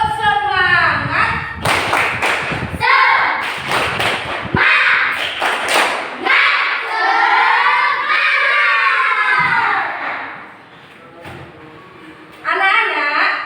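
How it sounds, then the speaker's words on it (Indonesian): Classroom of children doing a spirited Indonesian clapping chant led by a teacher, with bursts of rhythmic hand claps and thumps mixed with loud group chanting and voices, busy and close, ending in quieter talk. "Tepuk semangat."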